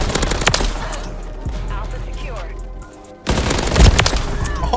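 Rapid gunfire rattles through a video game match, loud and close, with a dense burst at the start, a lull, then another heavy volley near the end; a voice talks over it.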